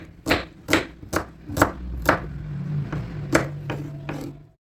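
A knife coarsely chops small onions on a board, giving about nine crisp, evenly spaced thuds over a soft background hum, close and clear, with no voices.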